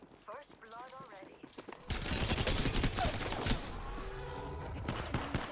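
Heavy rapid gunfire in a multiplayer shooter match, a dense loud fusillade of bursts erupting after a moment of talk and continuing under a voice.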